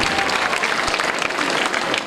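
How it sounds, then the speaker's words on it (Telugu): An audience applauds loudly at the opening of a school science fair, a dense, steady burst of many hands clapping throughout. "క్లాప్స్ గట్టిగా"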